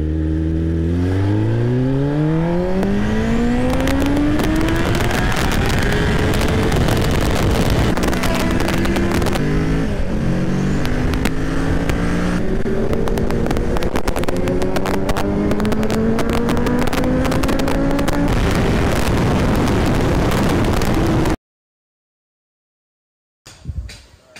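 A Kawasaki Ninja ZX-10R superbike accelerates hard in first gear on a highway, its engine note climbing steeply and continuously with heavy wind buffeting, loud and close until an abrupt stop.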